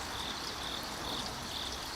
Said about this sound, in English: aside from the crickets.